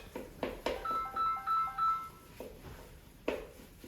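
A phone sounds a short electronic ringtone of stepped melodic beeps, fairly quiet and close, with a few soft clicks and knocks around it.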